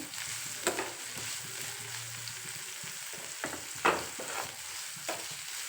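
Bitter gourd frying in oil over a medium flame for gojju, a steady soft sizzle broken by a few sharp stirring scrapes and clinks close by.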